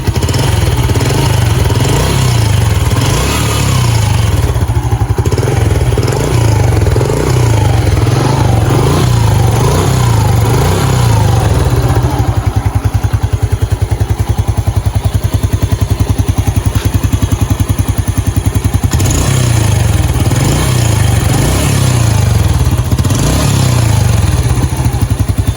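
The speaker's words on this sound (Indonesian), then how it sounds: "Coba saya geber." A Yamaha Jupiter Z1 motorcycle engine revs loud and close, a throbbing, clattery drone with repeated throttle blips rising and falling over a long steady run.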